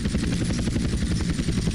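A helicopter in GTA San Andreas gives a close, loud rotor chop, fast rhythmic thudding pulses over a broad engine roar throughout the short stretch.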